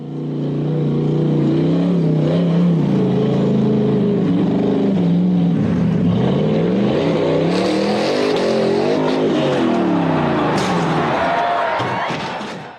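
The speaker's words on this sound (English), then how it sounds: "the buggy attempted to climb the near-vertical rock wall but lost momentum and suddenly reared up" A loud off-road buggy engine revs and strains near the microphone as it climbs a near-vertical rock wall at night, its pitch wavering through throttle bursts, with a few sharp knocks and scrapes near the end.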